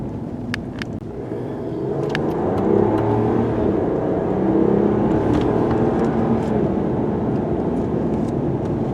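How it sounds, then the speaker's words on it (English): A 2025 Ram Warlock pickup truck with an inline-six engine accelerates smoothly with a rising whooshing whir rather than a loud roar, building steadily and sustaining, with faint clicks early on. "If you're wondering what the engine sounds like, it really doesn't make much sound at all, just a whooshing noise"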